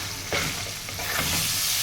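Date and tamarind pickle stirred in a pot of sizzling olive oil, a soft frying hiss with a few scraping strokes of the spoon, close and quiet, no talk.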